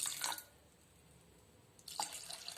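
Strained tamarind juice poured into a container of cooked dal for ridge gourd rasam: two short, close splashing pours separated by a quiet pause.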